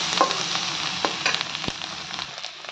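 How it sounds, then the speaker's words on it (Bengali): Tomato frying with a fried egg in a pan gives a continuous close sizzle, broken by brief scrapes and taps of a spatula. "এখানে ডিম ভাজা হয়ে গেছে, দিয়ে দিলাম টমেটো"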